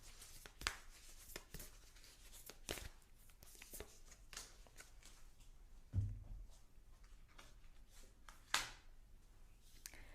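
Tarot cards being shuffled and drawn, soft papery riffles and slides with a few sharper snaps, quiet and close, with scattered pauses between handling sounds.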